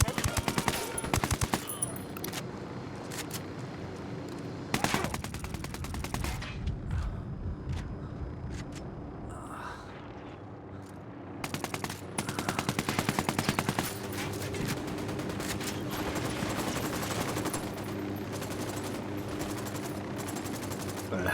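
Sustained automatic gunfire in Ghost Recon Wildlands as rebels are shot, dense bursts and rattling volleys running nearly continuously with brief lulls, loud throughout.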